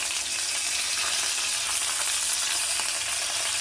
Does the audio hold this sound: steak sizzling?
yes